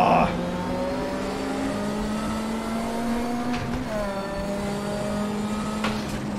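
Group 5 turbo touring race car at the Norisring in RaceRoom Racing Experience, its engine droning loudly and steadily throughout with rising revs under acceleration, a brief gear-change dip midway, and other cars audible nearby.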